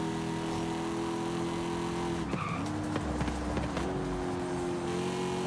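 Simulated car engine from Forza Horizon 5 drones steadily at sustained revs, dipping briefly as it shifts or slows before climbing again, with faint tire skid noise mixed in and no talk over it.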